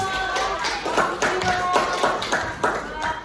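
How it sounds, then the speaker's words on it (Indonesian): A small classroom group claps in a short burst of applause, uneven and close, with voices faintly underneath. "beri tepuk tangan lagi untuk kita semua."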